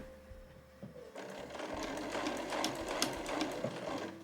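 A home sewing machine stitches No. 8 cotton canvas for a tote bag, starting after a brief pause and then running as a rapid, steady mechanical chatter at close range.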